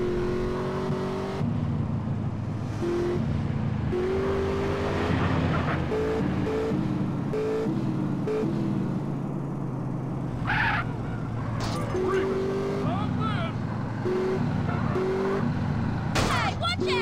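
A car in the video game GTA San Andreas drives fast, its engine revving and shifting pitch continuously up close while voices talk over it.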